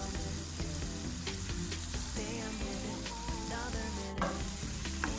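Green paste of ground coriander, mint, green chili, pepper and cumin frying with mushrooms at a roadside stall, a loud dense sizzle and crackle with occasional stirring clatter throughout.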